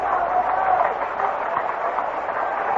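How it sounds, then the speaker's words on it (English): Steady crowd murmur fills the stands at Comiskey Park during a 1972 Red Sox–White Sox baseball game, a dense, continuous wash of voices with no distinct cheers. "Noisy crowd here at Comiskey Park"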